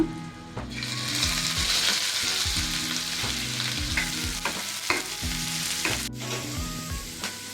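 Onion added to garlic browning in a hot pan, steady sizzling and frying with repeated stirring scrapes and clinks of a utensil against the pan, close up and without speech.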